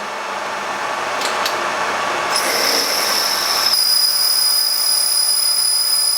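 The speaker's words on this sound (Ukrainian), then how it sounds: "Я вже одну втулку виточив, зараз точимо другу." Lathe turning a bushing for a Honda Lead scooter crankcase repair, a steady close machining whine with a bright high squeal of the cutting tool rising partway through.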